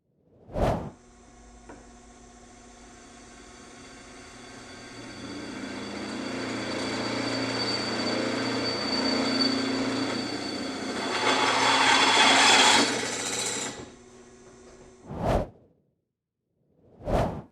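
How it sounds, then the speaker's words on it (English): A drill press boring through metal with a large-diameter half-inch Diablo bit: a steady grinding whir builds and rises in pitch while cutting, bracketed by sharp whooshing sounds at the start and end. "I'm going to do this one at the drill press."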